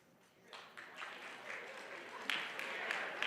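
Applause from a live show audience swells from quiet to fuller, with scattered claps and cheering building through the stretch.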